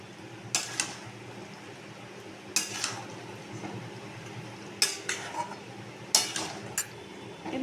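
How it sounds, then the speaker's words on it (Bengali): A spoon stirs meat and spices in a pan over a low flame, giving a few sharp scraping clatters at uneven intervals over a faint steady background hum. "ভালো করে নেড়ে দেবো।"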